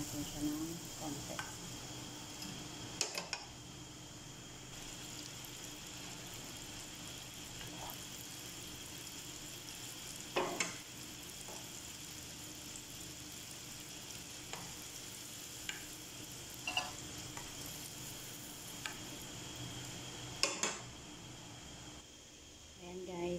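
Potato kubba sizzles and fries in a pan, a steady soft crackle with occasional louder pops and clinks of stirring, fairly quiet and close throughout.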